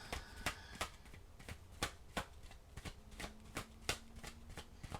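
Tarot cards are shuffled by hand in a close, quiet room, making a steady rhythmic run of crisp card taps and riffles, with no talking.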